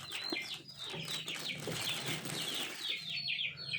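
Bangkok chickens, turkeys and Muscovy ducks crowd together at feeding time on a small farm, with repeated high calls and clucks overlapping alongside flapping wings and scuffling, close and busy throughout.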